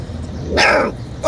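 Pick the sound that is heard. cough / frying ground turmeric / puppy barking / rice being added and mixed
puppy barking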